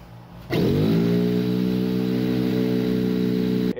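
Air compressor motor, uninsulated, kicks on abruptly after a brief quiet moment and runs loud and close with a steady droning hum and layered harmonic whine, then cuts off at the end.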